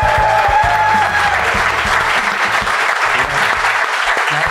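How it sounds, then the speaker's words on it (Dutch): Loud, sustained audience applause in a television show studio, steady and dense throughout, with a low musical tone and a faint voice underneath. "mag ik een keer een applaus voor Milan van Dongen en Jeroen Stekelenburg"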